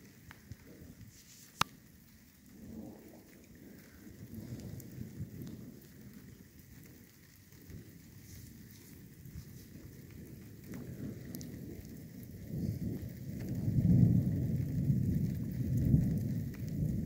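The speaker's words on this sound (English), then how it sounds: "I pretty much got lightning going on around me." Thunderstorm at night with steady rain and lightning around, heard outdoors: continuous rain patter with low rumbling thunder swelling louder toward the end, plus one sharp crack early on.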